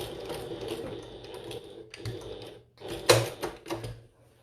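A sewing machine stitches a fabric bucket tote in tiny stitches toward a corner, running in several short bursts separated by brief pauses, close and moderately loud.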